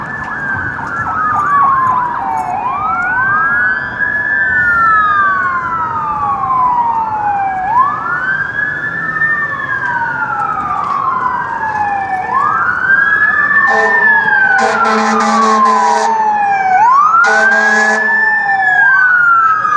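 Several emergency vehicle sirens wail at once on a downtown Toronto street, their rising and falling tones overlapping loudly and continuously, with a second siren pattern joining near the end.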